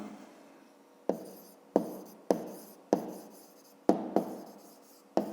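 A maths solution is written down by hand in a quiet room: sharp taps of pen on paper, about eight in total, each followed by a short scratch of writing.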